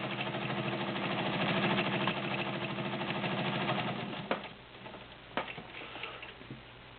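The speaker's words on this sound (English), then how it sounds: "you just widen out your stitch while you're sewing" A vintage all-metal dial-a-stitch sewing machine runs steadily, its motor whirring and needle ticking in a fast even rhythm for about four seconds, then stops, leaving a few faint clicks and handling noises.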